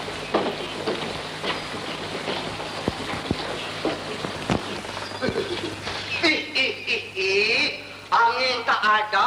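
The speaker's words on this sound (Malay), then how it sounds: "Hujan dah turun." Steady rain falls in an old Malay comedy film scene, a continuous hiss of drops under people talking, with louder voices toward the end.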